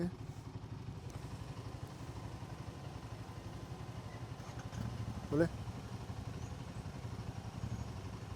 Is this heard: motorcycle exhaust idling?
yes